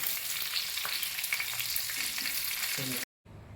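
Village crabs are stir-fried on a hot tava, with a steady sizzle and spatula scrapes and knocks running throughout, then a brief cut to silence before the sizzling resumes.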